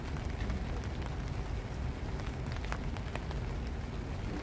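Steady rain patters on surfaces during an outdoor night vigil in DC, a dense close hiss with scattered drops, no talk over it.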